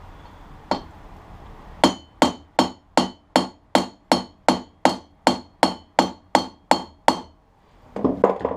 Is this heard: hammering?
yes